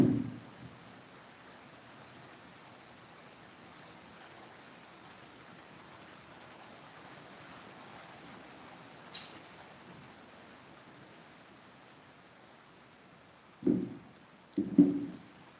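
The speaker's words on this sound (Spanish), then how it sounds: "comenzó a llover durísimo y no escucho" Heavy rain falls as a steady, even hiss that runs throughout, with a few brief knocks and bumps near the end.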